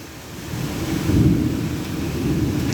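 Thunderstorm with rain in Saudi Arabia: a steady wash of rainfall mixed with deep, rolling thunder that swells to a loud peak midway and then stays heavy.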